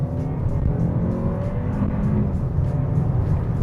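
A 2026 Kia K4 GT-Line hatchback accelerates in sport mode, producing a steady engine drone with low rumbling road and cabin noise heard from inside the car.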